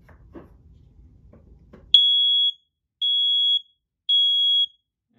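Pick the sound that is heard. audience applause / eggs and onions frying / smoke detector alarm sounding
smoke detector alarm sounding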